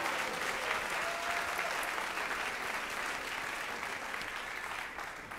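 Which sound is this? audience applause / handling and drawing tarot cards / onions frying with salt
audience applause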